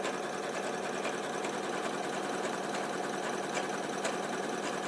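An Elna 780 sewing machine runs steadily, stitching a continuous line with a dense, even mechanical whir and faint rhythmic ticks, close and unbroken for several seconds without talk.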